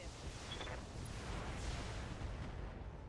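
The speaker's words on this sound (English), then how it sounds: "Ooh, some ammo explosions." Ammo explosions in the BattleTech video game roll out as a dense, continuous rumble of overlapping blasts, loud and steady for several seconds.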